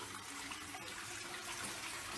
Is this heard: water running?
yes